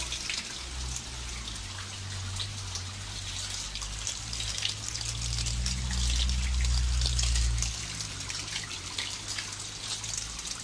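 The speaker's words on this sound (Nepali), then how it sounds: "पानी चुइराखेको रहेछ।" Water trickles and drips steadily inside a dark cave near a waterfall, a continuous wet patter with a low rumble that swells briefly in the middle.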